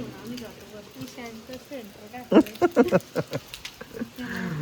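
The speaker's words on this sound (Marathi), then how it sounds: "पण खूप असा पाऊस चालू आहे" Heavy rain falling steadily in Mahabaleshwar with a pattering wash, joined by a burst of sharp clattering hits partway through and speech over the top.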